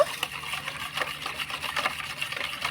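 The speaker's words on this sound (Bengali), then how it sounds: "এবার আমি গুঁড়ো করা চিনির মধ্যে ভালো করে মিশিয়ে নেব" Milk is mixed into powdered sugar in a bowl for an eggless mango cake batter, making a fast, steady, rattling whisk-and-stir sound close up.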